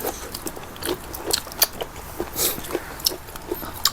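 Crisp bites into crunchy fried mackerel eaten with rice noodles in spicy fermented fish sauce, repeated close crunches and chewing in an irregular rhythm.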